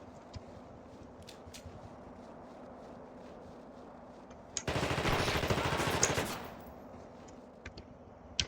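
Gunfire in The Thing Remastered game, a dense two-second burst of rapid automatic shots after quiet ambience, with a few faint isolated clicks around it.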